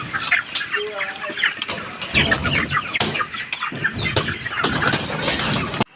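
Many chickens cluck and squawk close by during a chicken harvest, a busy flock chattering continuously with some wing flapping and a few voices mixed in.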